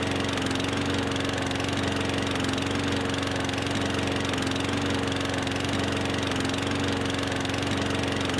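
In the Farming Simulator 15 video game, a push lawn mower mows grass with a continuous droning engine hum and a steady rattle, even and unbroken, with no voices.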